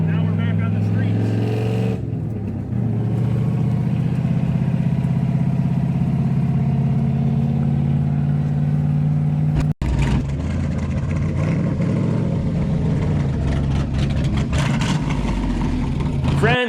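LS-swapped car that had sat unused for years, its V8 running loud and close, idling with a steady throb, then a sharp cutoff and renewed revving, with a voice speaking over it at times.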